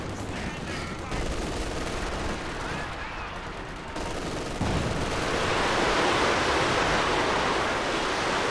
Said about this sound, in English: Double land mattress barrage running on in.